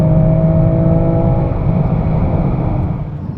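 A BMW M3 pulls away under launch control, its engine loud and droning from inside the car at first, then the tone thins and fades over the last couple of seconds.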